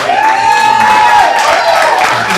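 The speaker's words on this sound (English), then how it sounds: "I think that deserves a round of applause" A crowd cheers and applauds at a metal music event, loud and close, with a sustained shout or whoop riding over the clapping and voices throughout the short burst.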